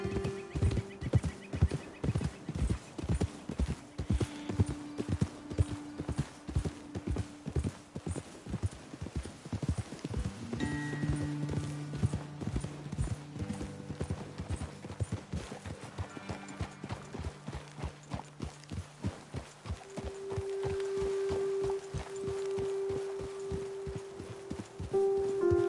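Horses walk along in Red Dead Redemption 2, their hooves clip-clopping in a steady rhythm for the whole stretch, close and clear, with faint rain and low background music underneath.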